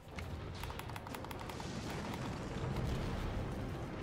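The Kraken, a huge war machine in Halo 5, breaks apart in a long rumbling roar of rolling booms and crackling bursts, steady and moderately distant.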